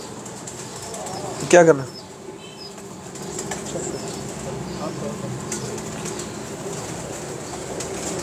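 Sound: pigeons cooing and flapping

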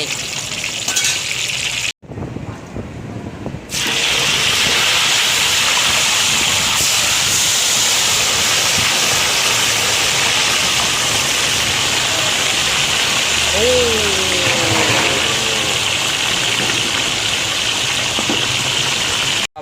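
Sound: tilapia fish frying in hot oil

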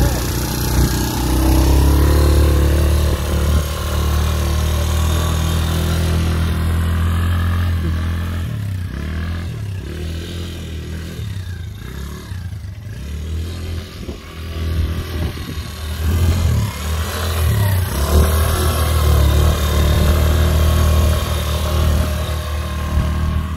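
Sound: Quadzilla Spider 110 quad bike engine running

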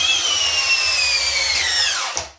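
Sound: Hart brushless drill driver running

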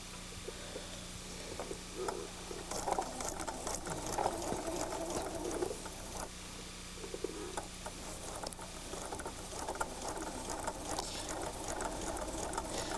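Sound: sewing machine stitching quilt pieces

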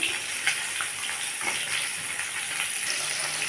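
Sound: frying rohu fish pieces in hot oil

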